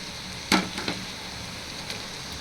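Onions with ginger garlic paste sizzling in a pan for chicken kulambu, a soft steady frying hiss marked by a few sharp clinks and scrapes of a utensil.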